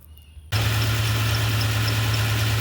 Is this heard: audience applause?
no